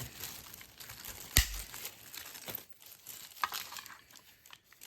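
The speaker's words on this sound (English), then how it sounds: "destroy this whole label here while it's still in the bag, and any shards are going to be caught in the bag" Plastic bag crinkles and rustles steadily around a graded Pokémon card slab being broken open, with one sharp crack partway through and softer crinkles after, close and fairly quiet.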